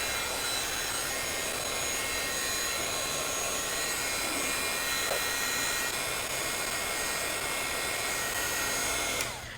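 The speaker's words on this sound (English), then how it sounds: "you're gonna have to hit it with the heat gun" A heat gun drying expanding mousse texture paste blows a steady, loud, airy roar that runs unbroken throughout and cuts off at the very end.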